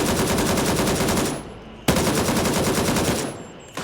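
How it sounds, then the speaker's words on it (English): Sustained fully automatic AK rifle fire from a magazine dump in the military shooter Gray Zone Warfare, loud and close, two long bursts separated by a brief pause, with no talk over it. "I took this AK and tried to mag dump an unarmored local twice"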